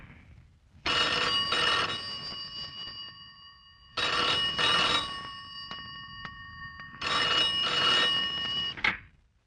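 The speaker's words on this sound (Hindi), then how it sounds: "सपना का फोन है।" A telephone bell rings in three long bursts with pauses between them, each a bright warbling ring, loud and close in a film scene, with no talk over it.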